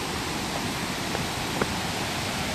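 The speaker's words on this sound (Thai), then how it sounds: "ถึงแล้วนะครับน้ำตกสีลาซู" Thi Lo Su waterfall in Thailand's forest roars as a steady, even broadband rush of falling water, close and constant with no voices.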